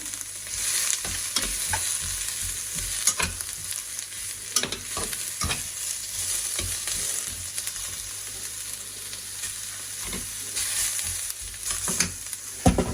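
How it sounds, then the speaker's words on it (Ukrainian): Carrots sautéing in a pan give a steady sizzle, broken by scraping stirring strokes at irregular intervals, close and fairly loud, with no talking. "Морквочку закладаю, одразу перемішую."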